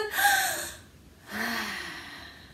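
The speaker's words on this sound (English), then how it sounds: "Let's take 3 big breaths." Two deep breaths taken by a group of young listeners during a read-aloud story session: a loud, airy inhale and exhale up close, a brief pause, then a second long breath.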